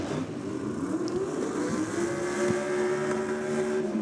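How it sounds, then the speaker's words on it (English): A Pro Line engine revving on a 2023 Kenda 660, a steady loud drone rising and falling in pitch with sustained revs, close by and with no talking. "listen to that pro line revving"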